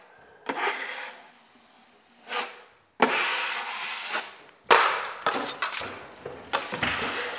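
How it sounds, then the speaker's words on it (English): A drywall knife scrapes joint compound along an inside corner of drywall, giving close, rasping swipes in separate bursts with short pauses between them. "I'm just gonna take some compound and fill right along this edge."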